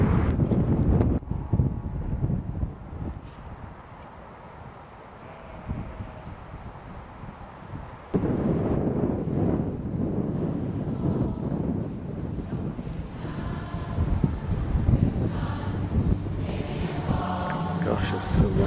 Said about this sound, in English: Gosh, it's so windy.